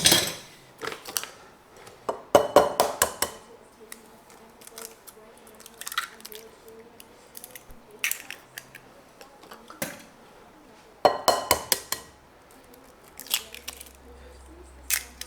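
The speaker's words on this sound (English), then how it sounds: "And then we're going to crack 2 eggs in here." Two eggs cracked into a bowl for keto cowboy cookies, heard as sharp close taps and cracks in small clusters with wet drips between them, separated by quiet pauses and brief bits of talk.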